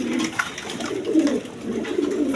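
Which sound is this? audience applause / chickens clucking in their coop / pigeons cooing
pigeons cooing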